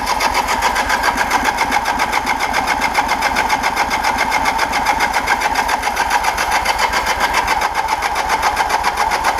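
A 1980 Kawasaki KZ LTD440 motorcycle engine idles steadily after a rebuild, a loud, even mechanical pulse with a fast regular beat, close up and uninterrupted.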